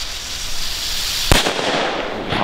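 Fireworks being set off during a New Year celebration: a continuous crackling hiss of small firecrackers and fizzing effects, broken by one sharp, loud bang partway through, with no talk.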